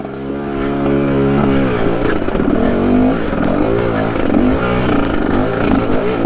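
Dirt bike engine revving continuously on a rough trail, loud and close, with rising and falling pitch as the throttle opens and eases across the whole stretch.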